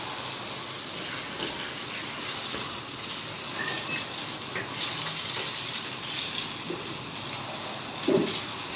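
Water gushing steadily from a hose while cows are washed on a dairy farm, a continuous hissing splash with a few small knocks and clatters.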